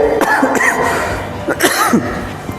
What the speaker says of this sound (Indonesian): saya sudah lantang jadi batuk